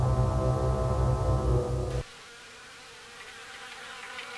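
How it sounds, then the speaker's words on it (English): Wasps buzz inside an infested kitchen cabinet nest in the video game Harvester: a loud, dense droning hum for two seconds that cuts off abruptly, leaving a faint rustling buzz. "From the sound of it, these cabinets are infested with wasps."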